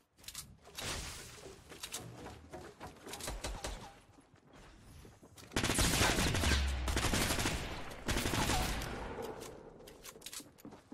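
Rapid bursts of gunfire in the video game Fortnite crackle in dense volleys, with louder sustained stretches of shooting partway through and no talking.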